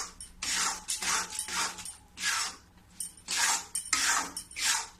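A ladle stirs khoa with cardamom seeds in a pan for peda, scraping the metal in rhythmic bursts about every half second with short gaps, close and clear.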